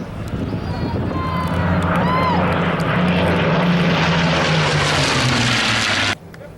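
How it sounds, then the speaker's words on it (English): A WWII P-51 Mustang propeller fighter sweeps past low and fast at an air museum event. The engine roar swells loud and close, then cuts off sharply near the end. "Here they come. Low and fast again. P-51 Mustang."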